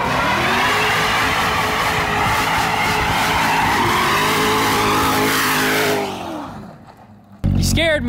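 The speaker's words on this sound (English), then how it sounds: "that was a burnout right there" A rebuilt Corvette ZR1 does a loud, close burnout, engine roaring and tires squealing steadily for about six seconds before it cuts off, with a short burst of voices at the end.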